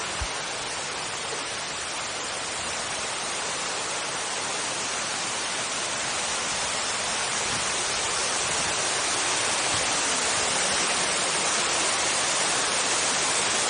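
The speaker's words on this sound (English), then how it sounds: "That's the waterfall right there dead ahead." The Giang Dien waterfall in a Vietnamese ecopark makes a constant, even rushing roar of falling water that never pauses, heard without any talking.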